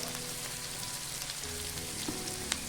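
Onions fry in oil for egg fried rice, a soft, steady sizzle with faint crackles and a light tap or two near the end, heard alone without talk.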